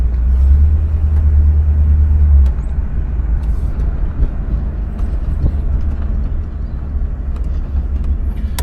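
A 1975 Oldsmobile Delta 88 engine and exhaust rumble steadily from inside the vehicle, a deep, smooth, even drone with a heavier low throb at the start.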